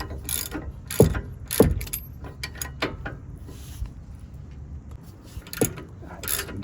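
Socket ratchet tightening bolts on the rear brakes of a Ram 1500 during a pad and rotor job, a few sharp clicking and clunking bursts with soft mechanical ticking between them, close up.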